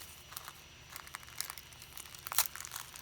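A pretty pink Flourishes paper bag from a happy mail package is handled up close, giving soft, quiet crinkles and rustles with a sharper crumple near the end.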